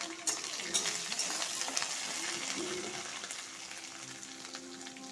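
Mustard seeds, curry leaves and chopped onion hit hot oil with a burst of sizzling and spattering, settling into a fainter, steady fry with a few stirring scrapes.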